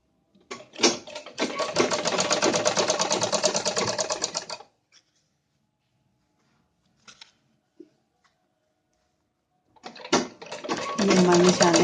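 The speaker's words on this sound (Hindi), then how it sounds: "ये जो हमने ऐसे निशान लगाया था उस निशान पे सिलाई लगाएंगे हम।" A sewing machine stitches a kurti collar along a marked line in loud, rapid bursts of steady mechanical clatter, first for a few seconds, then a quiet gap with small clicks, then again.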